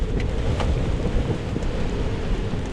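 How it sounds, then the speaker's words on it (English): Wind blowing across a boat, a steady loud broadband roar with gusty buffeting on the microphone throughout, no voices. "A little windy, is it?"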